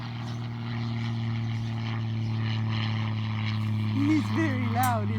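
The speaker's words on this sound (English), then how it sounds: "Yeah, low plane." A low-flying propeller airplane drones steadily overhead, a continuous engine hum heard outdoors in a garden, while people talk nearby and a cockatoo squawks toward the end.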